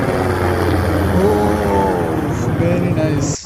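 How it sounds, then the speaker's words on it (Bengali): A helicopter flies over a crowded seaside corniche during a Saudi National Day air show in 2021, giving a steady, fairly loud rotor and engine drone that holds throughout and fades slightly at the very end. "Very nice helicopter."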